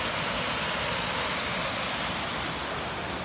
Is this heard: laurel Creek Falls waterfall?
yes